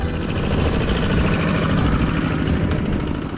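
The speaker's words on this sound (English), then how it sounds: "The Kuidal or Kuyon walking tractor, a one-axle, one-cylinder, multi-purpose engine" A Kuyon walking tractor, a one-axle machine with a one-cylinder multi-purpose engine, runs on a road in Cambodia's Cardamom Mountains. Its loud, close, steady chugging rumble continues throughout with no voices.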